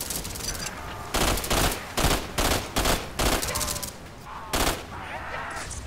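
Rapid automatic gunfire from the Roblox zombie game Michael's Zombies comes in loud, dense bursts separated by short pauses, with the rattling volleys repeating across the whole stretch.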